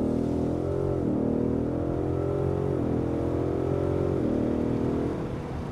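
Ford Mustang GT V8 5.0 in sport mode, engine droning loud and close as it revs and drops through a couple of gears, the pitch dipping and rising with each downshift.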